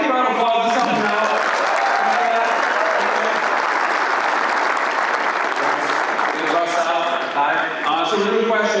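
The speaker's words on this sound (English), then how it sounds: "Give me a round of applause." An audience at a lawn care business event claps loudly and continuously for several seconds, a dense wash of applause that tapers slightly near the end.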